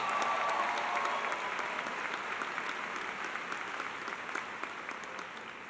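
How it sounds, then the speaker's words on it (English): An audience at a high school graduation ceremony claps in a dense, steady burst of applause that gradually thins and fades toward the end. "So let's give Ms. Shaw another round of applause."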